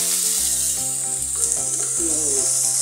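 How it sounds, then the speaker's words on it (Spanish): Sliced onion and scallion sauté in a hot pan with a steady, loud sizzle throughout, while faint music plays underneath. "Al sofreír la cebolla y el guión, se siente un delicioso aroma"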